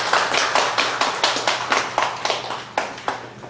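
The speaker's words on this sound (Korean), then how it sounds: "장로님하고 박수를 해야 되겠네요" A small church congregation clapping in rhythm during a Sunday service award moment, a few hands producing regular, evenly spaced claps close by over a low steady hum.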